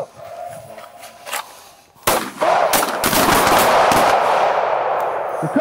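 Handgun shots fired in a close retention shooting drill at short range, loud sharp reports in a quick string after a quieter opening, with echoing decay between shots.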